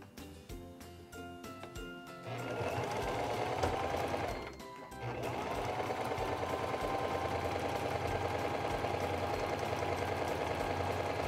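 Singer 2273 Esteem II sewing machine stitching a short, wide zigzag, a loud steady mechanical whir close up that starts after a few seconds, pauses briefly, then resumes and runs on.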